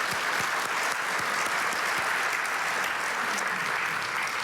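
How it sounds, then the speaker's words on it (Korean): A church congregation at a Korean New Year united prayer meeting applauds its pastor, thick, steady clapping from a large crowd, even and sustained throughout with no talk. "우리 목사님께 박수로 감사하겠습니다."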